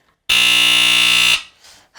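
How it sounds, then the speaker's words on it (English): A smoke alarm blares one loud, piercing, continuous electronic tone for about a second, then cuts off, leaving brief quieter noise. "Yes, it's a smoke detector."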